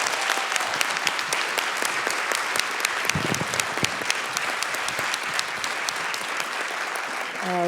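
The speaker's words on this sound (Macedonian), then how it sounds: "Ве молам еден голем аплауз за Арнура." An audience at a storytelling gala applauds a performer with dense, sustained clapping; a voice begins to come through just at the end.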